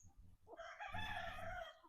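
A native country chicken held in someone's hands squawks and crows loudly in a sustained, harsh burst as it struggles to break free, close to the microphone with no talking.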